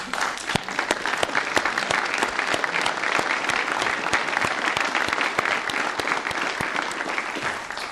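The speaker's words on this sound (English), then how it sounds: "I'd ask you to stand up a bit and take an applause on behalf of the whole advisory committee." Audience at an advisory committee session of the Bretton Woods Committee annual meeting applauding steadily for several seconds, a dense, even wash of many hands clapping close by with no talk over it.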